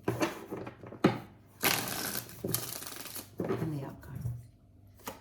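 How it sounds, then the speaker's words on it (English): Tarot cards being shuffled by hand in quick riffling bursts with papery flutters and brief pauses between, close and fairly loud, with a voice talking intermittently. "Shuffling for Scorpio."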